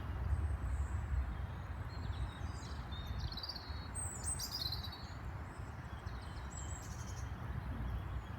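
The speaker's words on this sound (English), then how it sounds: "I don't know if you can hear all the birds singing there." Birds sing and chirp in woodland close to a motorway, with scattered high calls over a steady low roar of distant traffic throughout.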